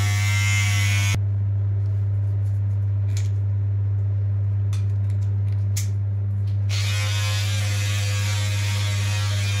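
Electric clippers buzz with a strong, steady hum close by while shaving a head of hair, the sharper cutting rasp dropping out for a few seconds in the middle and returning near the end.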